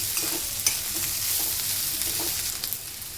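Vegetables including cauliflower stir-fry in oil over high flame for veg fried rice, a loud, steady sizzle with repeated clinks and scrapes of a spatula against the pan.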